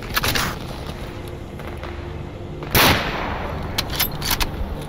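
Gunfire from a gun in the video game Stalker, a few sharp shots with one louder blast near the middle and quicker pops toward the end, close and crisp over steady game ambience.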